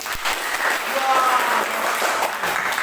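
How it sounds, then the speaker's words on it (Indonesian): Classroom of students clapping for group 1 in a mathematics lesson, a steady round of applause filling the room for about three seconds, with faint voices mixed in. "Berikan tepuk tangan kepada kelompok 1"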